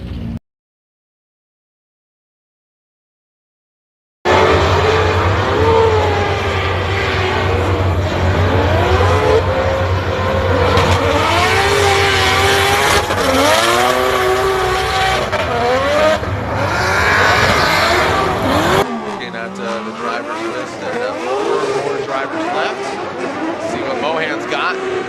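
A 3-rotor turbo Mazda RX8 drift car slides with big angle at Formula Drift Irwindale, heard as a loud, sustained engine roar with changing pitch and possible tire squeal, while a commentator talks over it.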